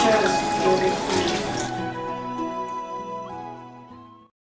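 Water runs strongly from a kitchen tap over vegetables for efo riro, a loud steady gush that thins and fades out near the end.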